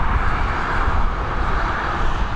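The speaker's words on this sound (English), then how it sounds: "we've got this Airbus A320 heading over to Perpignan" An Airbus A320 departing Dublin Airport makes a loud, steady jet engine roar that holds at a constant rumble throughout.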